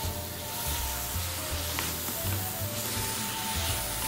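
Minced jarred garlic sizzles steadily in a hot pan while cooking chicken with tomatoes, olives and mushrooms, a continuous close crackle and hiss with no talking.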